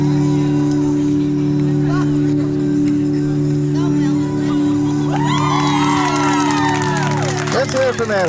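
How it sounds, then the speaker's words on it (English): A crowd at a high school sports event cheers and whoops loudly, with a constant hum underneath and rising shouts and high-pitched yells breaking out in the second half. "cheer for Mary"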